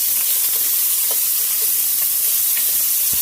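Raw meat tossed into a pot of browned onions for Moroccan harira sizzles loudly and continuously, a dense close frying hiss with occasional stirring clicks.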